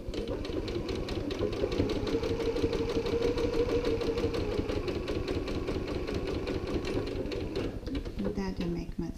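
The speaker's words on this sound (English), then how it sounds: "I'm going to install that little stitch line across the top to divide that center pocket into thirds" A sewing machine stitches a line across a tote bag's interior pocket, its needle hammering in a fast, even, continuous rhythm at close range.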